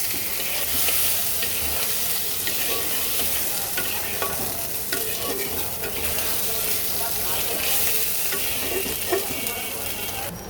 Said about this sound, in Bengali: এইবার মশলাটাকেও সুন্দর করে আমি ভাজা ভাজা করবো